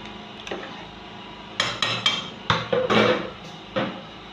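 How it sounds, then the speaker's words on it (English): A spoon stirring party-style smoky jollof rice in a pot with water an inch above the rice, making scattered scraping knocks and clanks against the pot, irregular and close, with quiet gaps between strokes. "So I'm going to stir it."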